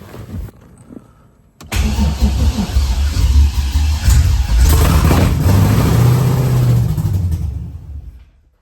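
An engine-swapped Corvette C6 Z06 cranks after a brief silence, catches, and settles into a loud, close rumbling idle with a throaty low hum that tapers off near the end.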